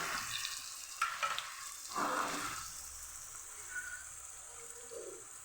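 Garlic, ginger and grated tomato sauté in a pan for a Kathiyawadi dal tadka, a soft, close sizzle broken by a few spoon stirs and scrapes early on.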